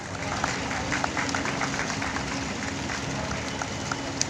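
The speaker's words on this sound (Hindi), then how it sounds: "बजाइए आप लोग तालियां।" Children in an audience applaud at a district child welfare council cultural programme in Kaithal, a steady, fairly faint wash of clapping sustained throughout with some crowd noise mixed in.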